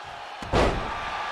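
A wrestler slammed onto the ring mat with an Alabama slam during a pro wrestling match, one loud, close impact thud with a brief resonant boom, no talk over it.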